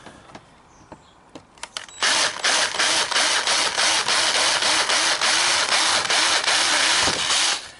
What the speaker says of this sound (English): now I can put a little tiny pilot hole to get him started